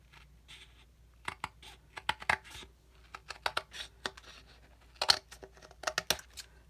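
Scissors trim paper for a junk journal, giving a quiet run of short, crisp snips and rustles in irregular bursts, close by, with no talk.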